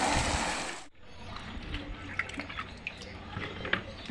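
Food being washed by hand in a large bowl of water: a loud rush of running water that cuts off abruptly, followed by softer sloshing, dripping and splashing nearby, with a brief faint voice.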